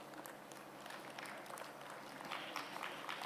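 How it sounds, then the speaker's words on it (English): Audience applause at a National Space Day 2025 event greets a newly introduced panel, a steady dense patter of many hands clapping at moderate distance, swelling slightly toward the end. "Thank you for the applause"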